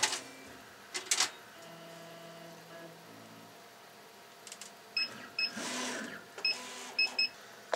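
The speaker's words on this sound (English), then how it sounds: "My machine's going to move here when I power it on." An OMTech 80-watt laser engraver powers on and its gantry moves, with quiet clicks, short motor whirs and a cluster of faint electronic beeps near the end.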